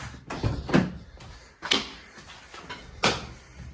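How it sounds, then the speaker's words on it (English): Three separate clunks of a car door, each a short thud with a metallic rattle, spaced about a second apart and fairly close. "you need to open the door"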